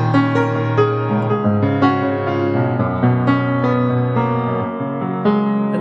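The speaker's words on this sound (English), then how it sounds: "So you can hear, I definitely have some growl down here." Low bass notes on an Essex EGP155 grand piano ring out with a growly, dense tone, several overlapping chords struck in sequence and sustaining fully, close and solo with no voices.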